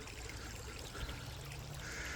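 A small stream, more of a shallow creek, trickles and babbles steadily in a valley nature reserve, a faint continuous watery wash with no talk over it.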